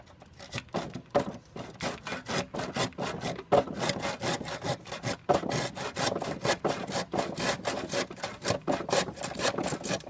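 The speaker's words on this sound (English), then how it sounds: "you may also need a handsaw to help cut out extra pieces of wood that were not able to be cut out by the circular saw" A handsaw cuts out leftover wood from a stair stringer with quick, rhythmic rasping strokes, close and steady, each push and pull scraping through the board.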